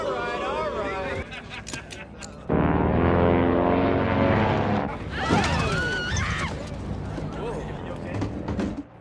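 An airliner in a film scene shudders through turbulence near mountains, its loud, steady engine roar surging in abruptly and holding, with voices talking over it.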